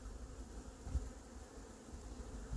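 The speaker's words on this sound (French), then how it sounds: "je vois un frelon qui est parti encore avec une abeille" Bees and hornets buzzing around hives at an island apiary, a faint, steady insect hum with occasional closer passes swelling briefly, outdoors and alone.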